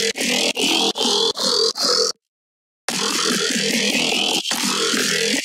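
A trance-style growl synth patch made in Serum, heard as five quick buzzy pulses, a short silence, then a sustained growl with a rising filter sweep that cuts briefly and resumes; loud, close and alone.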